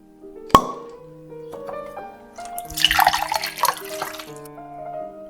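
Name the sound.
Chianti wine being poured into a glass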